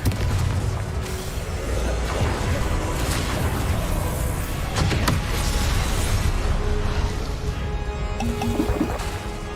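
A Confringo fire spell from Hogwarts Legacy goes off as a loud, dense boom with a rushing whoosh, blended into continuous game combat noise.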